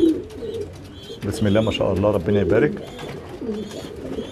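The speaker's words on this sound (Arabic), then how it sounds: "حمام اللحم اللي الناس كلها بتسأل عليه اهو" Meat pigeons coo in a loft, giving soft rolling calls close by while someone talks over them.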